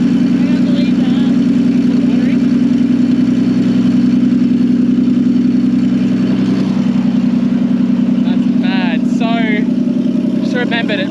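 An EBISU missile car with little exhaust fitted idles roughly and steadily, a loud low throbbing engine close by, while people talk over it and a few faint higher noises come in near the end.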